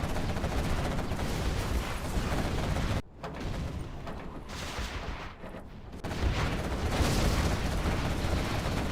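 Video game artillery rumbles and booms through a continuous barrage, loud and dense, with a brief drop in intensity midway before the heavy fire swells again.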